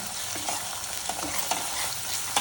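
A black masala paste fries and gets stirred in a pan, a dense continuous sizzle with rhythmic scraping of the spatula through the thick mixture, close up and moderately loud, with no speech.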